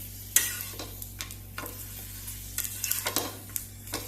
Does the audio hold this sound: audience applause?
no